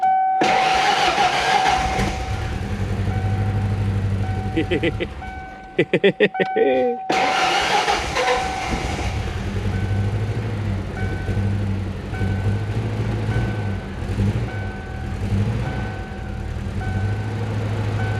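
An old 1993 Ford Ranger pickup with a manual clutch and a slight misfire from stale fuel runs with a steady, close engine drone, cuts out briefly midway with a few stuttering cranks, then settles back into a rough, continuous idle.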